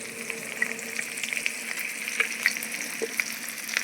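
Spinach curry masala with tomato gravy, turmeric and chili powder sizzles steadily in a pan, a close continuous fry with small pops and occasional stirring clicks, and no talk.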